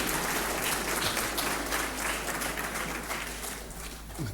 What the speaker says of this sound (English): It's not often I stand up to a round of applause